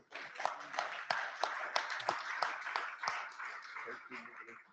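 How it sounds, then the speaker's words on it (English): Audience applause for a panel of speakers at a cyber-security conference session: a steady wash of clapping from a room full of people, with sharp individual claps standing out and voices mixed in. "Can you give them a round of applause, please?"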